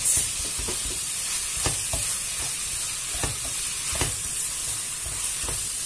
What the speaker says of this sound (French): on va essayer d'émietter tout ça en même temps que ça cuit